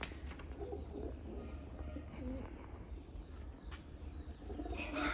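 Pigeons paired up in a coop, cooing low and soft in a steady murmur alongside faint chirps and background hum.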